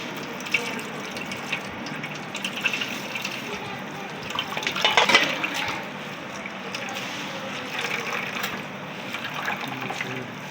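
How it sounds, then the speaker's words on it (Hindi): Liquid from grated onion strained through a cloth trickles and drips steadily at close range, with a brief louder gush in the middle; no one talks. "ये प्याज का सारा पानी निकल रहा है, देख रहे हैं आप।"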